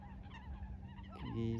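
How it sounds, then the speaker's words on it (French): Geese or similar fowl honk and call back and forth outdoors, a steady low chatter of several birds with a louder, clearer honking burst near the end. "comme ici les oiseaux qui parlent entre eux"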